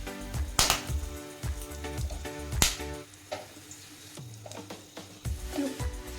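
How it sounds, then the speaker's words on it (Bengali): Whole spices (bay leaf, a piece of cinnamon, small cardamom pods, cloves and a dried red chilli) dropped into very hot oil, giving loud bursts of sizzling and crackling with clinks of a spoon against the pan, then a quieter spitting fry. "তেল খুব ভালো করে গরম হয়ে গেছে, দিয়ে দেবো একটা ফোড়ন।"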